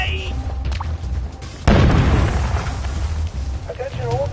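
A grenade blows up in the video game We Happy Few, a sudden loud blast that rolls into a long rumbling tail, with game voices talking over the moments before and after it.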